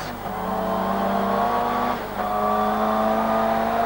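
A 500-horsepower saloon race car roars along at speed, its engine note loud and sustained with a brief dip mid-run as revs change, close and continuous without any talk.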